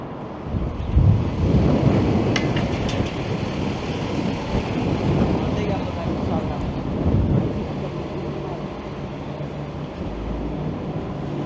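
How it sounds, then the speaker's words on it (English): Strong wind gusts across an open downtown Toronto park in spring, a continuous loud rumble buffeting the microphone with surges around the start and again later, steady throughout with no other clear sounds. "the wind has certainly picked up over the past hour or so"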